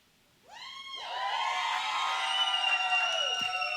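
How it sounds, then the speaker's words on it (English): Wrestling event crowd breaking into loud, sustained cheering and whistling that swells after a quiet start and holds steady, with shouts and whoops mixed in. "The crowd has gathered."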